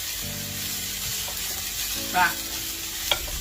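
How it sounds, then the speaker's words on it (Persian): Colourful chopped peppers stir-frying in a pan for Turkish pide, with a constant sizzle, a couple of utensil scrapes and taps, and a brief voice. "هم میزنیم تفت بخوره."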